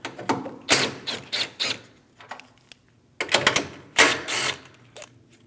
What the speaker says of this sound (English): Remove the 10mm bolt and nut for the top isolator.